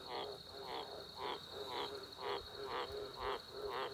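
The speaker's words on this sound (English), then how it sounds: "That's a frog over there." Frogs croak at a farm dam after rain, a steady series of about eight evenly spaced calls close by, with cane toads also present nearby; no one speaks.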